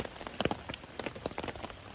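Rain falls steadily on a trail shelter, a close patter of irregular drops striking the surfaces around, quiet and constant, with no talking.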